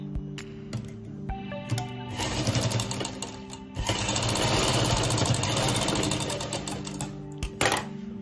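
Sewing machine stitching a frill on a six-month-old baby's dress, running in short bursts and then a steady, fast, close-up whirring stretch, with pauses between runs.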